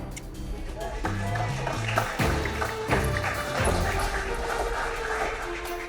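A young puppy whimpers and yips with a few short barks, close by and fairly loud, while people talk over it.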